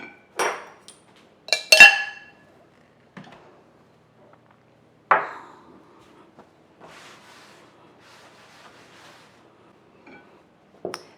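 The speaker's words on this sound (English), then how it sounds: "So what I'm going to do is just kind of fold this in with my fork" Sourdough biscuit dough with starter and sour cream is folded in a bowl with a fork, giving scattered close clinks and scrapes of metal against the bowl, a few sharp knocks and then quieter intermittent scraping.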